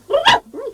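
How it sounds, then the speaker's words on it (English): A dog gives one short, high bark followed by a softer whining yelp, close and brief. "I can hear a dog barking too"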